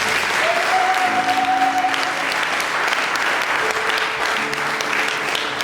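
A church congregation claps loudly and steadily as they acclaim the Lord, with a held sung or shouted tone and scattered voices rising over the dense, continuous applause.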